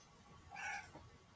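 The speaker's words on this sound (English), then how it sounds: "Oh, there's a cat." A cat gives a single short, fairly quiet meow, rising and falling in under half a second against a faint background hiss.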